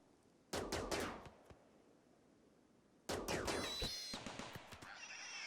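Two bursts of rapid gunfire from the colony game RimWorld, a quick cluster of sharp shots followed by a pause and then a longer, denser volley trailing off, fairly quiet overall with no talking.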